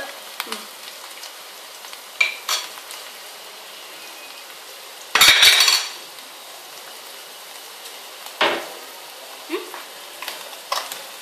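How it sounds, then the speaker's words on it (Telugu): Onions sizzle softly in a pan for tota kura pulusu. A faint, steady frying hiss runs underneath, broken by a few sharp clatters and one loud burst of sizzle or stirring about midway. "ఉల్లిపాయలు ఎక్కువ వేగనివ్వకూడదు."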